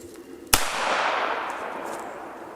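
An old rifle fires a single sharp, loud shot outdoors, followed by a long rolling echo that fades over about two seconds.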